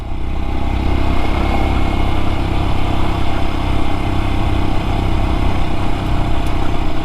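A 2023 Royal Enfield Scram 411 motorcycle engine drones steadily and loudly up a hill on a gravel road at about 40 miles an hour, without a gear change, with wind noise.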